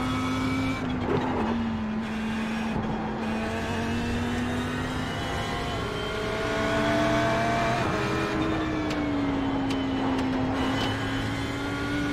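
Race car engines in iRacing, Mercedes among them, drone at a steady pitch as they hold speed, with gear changes and the engine note rising and falling, and other cars close by.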